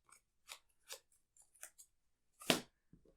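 Two Arkham Horror card game cards are shuffled by hand, giving a handful of short crisp papery swishes and flicks close up. One louder snap stands out near the end, with quiet gaps between the strokes.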